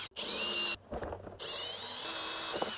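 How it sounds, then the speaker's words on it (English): A power drill with a 1-inch bit whines steadily as it bores through material, with a short pause partway before the high-pitched grinding resumes, close and continuous. "I'm going to use the 1 inch bit again and drill these out."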